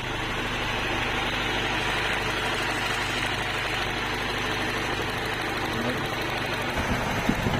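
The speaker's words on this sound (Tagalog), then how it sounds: "So wala pa rin, so rev lang natin kung para mabilis uminit." A car engine revved to warm up quickly while checking its radiator fan temperature switch, a steady close droning hum and vibration held at a constant level throughout.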